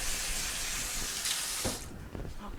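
Water runs steadily from a kitchen sink tap during a quick wash-up while cooking, a broad hiss that continues for most of the clip and then cuts off, leaving faint clatter at the end.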